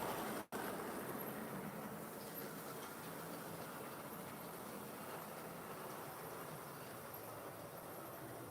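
A model GWR Hall Class locomotive pulls the Cornish Riviera Express around a layout, producing a steady, continuous rolling rumble and whir that stays even and fairly quiet throughout, with one brief dropout near the start.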